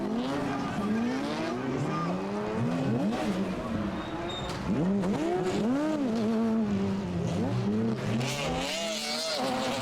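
Race cars on the Trophée Andros ice circuit in 2006 roar loudly and continuously, engines rising and falling in sweeping pitch bends as they rev and slide through corners, with tire noise throughout.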